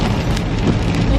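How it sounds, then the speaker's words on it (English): Rain drumming on a car while driving, a dense continuous patter close around the cabin with road noise underneath, loud and unbroken. "I hate driving in the rain."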